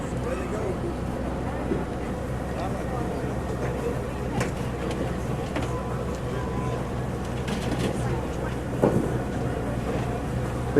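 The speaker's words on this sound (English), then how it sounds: "Fishing boats is going out." Steady low engine rumble of fishing boats heading out on open water with wind buffeting the microphone throughout, a faint bump near the end.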